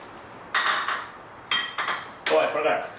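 Small onions tumble into a pan with roasted curry leaves for sambar, giving three quick bursts of metallic clatter and hissing sizzle, close and fairly loud, separated by brief quiet.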